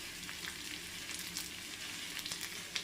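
Chopped shallots and dried red chillies fry in hot oil for an elephant foot yam curry. A soft, continuous sizzle crackles quietly with faint spatters throughout, and no voices are heard.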